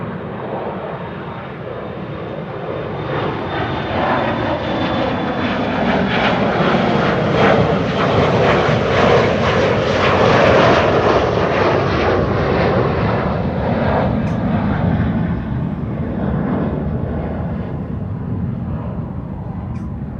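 A jet airliner at Amsterdam Schiphol Airport roars past, its broad engine rumble swelling to a peak and then slowly fading as it moves away, loud and steady with no talking.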